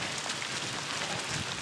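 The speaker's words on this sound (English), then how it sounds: "I swear the rain is just coming down heavier and heavier" Heavy rain pours down steadily outdoors during a run, a dense, continuous broadband hiss with no voices, fairly close and even throughout.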